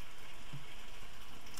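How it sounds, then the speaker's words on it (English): Heavy rain pouring down outside a house, heard as a faint, even hiss of falling water that continues steadily and unchanging from start to end. "That noise you can hear, by the way, is the rain again."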